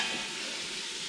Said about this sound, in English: saute for 3 minutes or until the onion softens and becomes translucent